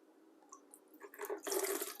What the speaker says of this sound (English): now I'm straining the sorrel